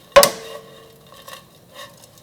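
Squid threads being stirred in oil in a pan over medium-low heat, opening with a sharp utensil scrape against the pan, then softer scraping strokes that fade in and out, close and alone.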